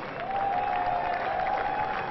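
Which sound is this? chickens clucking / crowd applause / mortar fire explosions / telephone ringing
crowd applause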